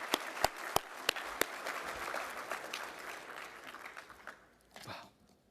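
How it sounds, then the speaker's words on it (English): Applause from an audience at an Army recognition luncheon honoring the 82nd Airborne All-American Chorus, with a few sharp close claps standing out early, sustained clapping that fades after about four seconds, and a brief murmur before quiet. "Let's give the 82nd Airborne All-American Chorus another big round of applause."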